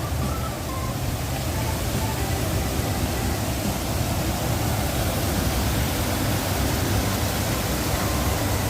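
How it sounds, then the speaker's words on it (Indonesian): A small waterfall at a mosque in Puncak gives a steady, dense rush of falling water, constant and fairly loud, with no voices. "nah itu air terjun mininya"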